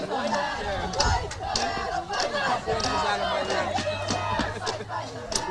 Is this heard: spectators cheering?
yes